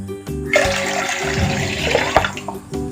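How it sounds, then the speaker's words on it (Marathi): Water splashes and pours in a steady stream into yogurt, rising and gurgling for a few seconds, with clinks at the start and end. "आता या दह्यामध्ये एक ग्लास भरून पाणी मी ओतणार आहे"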